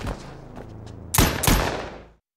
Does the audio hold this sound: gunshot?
yes